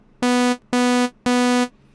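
The initial default patch of the Vital wavetable synthesizer plays three identical buzzy, bright sustained notes in an even rhythm, each about half a second with short gaps between them, clean and alone.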